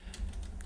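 A computer keyboard being typed on while writing Elm code: a few quick, light key clicks in a brief, close burst.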